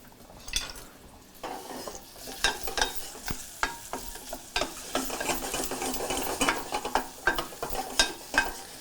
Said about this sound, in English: once those start to sizzle up a little